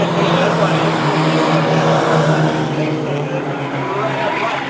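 Mighty Trucks racing pickups roaring down the back straightaway at a speedway, a loud, continuous engine drone with the pitch shifting as they pass, and an announcer talking over it.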